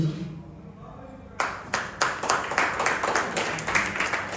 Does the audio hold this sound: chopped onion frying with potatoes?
no